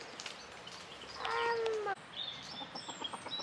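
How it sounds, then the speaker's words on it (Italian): Chickens cluck and squawk nearby in a short outdoor burst, with a louder rising call in the middle and softer clucks afterward. "nel percorso abbiamo incontrato anche le galline."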